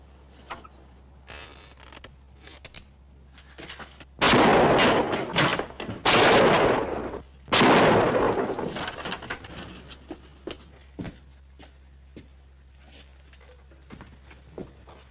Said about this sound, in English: They must have heard the shots.